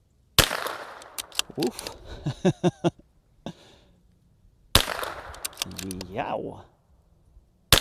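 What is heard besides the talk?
rifle gunshots firing Norma Xtreme .22 LR ammunition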